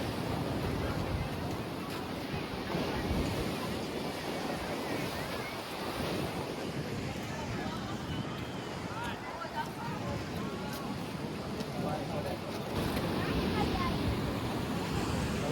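Heavy sea waves crash against the shore at the Bhadkeshwar Mahadev temple on the Dwarka coast, a loud, continuous roar of surf mixed with wind buffeting the microphone, with voices talking over it.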